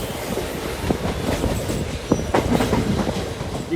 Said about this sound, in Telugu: ట్రైన్ నడికోటి స్టేషన్కి చేరుకుంది